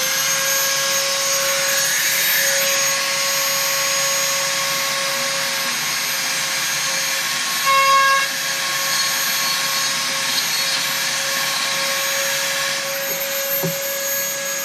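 A rotary motor tool set to depth routs out foam on a stinger spec build, a steady close whine that holds for many seconds and dips briefly in pitch as the bit bites in.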